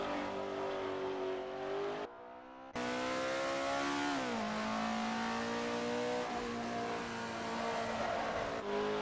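Alfa Romeo 33 Stradale in Assetto Corsa on the Nordschleife, its engine loud and droning at high revs, with a brief drop during a gear change, then pulling steadily upward again with faint tire noise.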